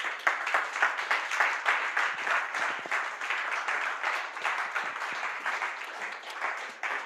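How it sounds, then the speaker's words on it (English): A conference audience gives sustained applause, dense clapping that holds steady for several seconds with no talking over it. "Please, can we give a round of applause to Dr. Opeyemi?"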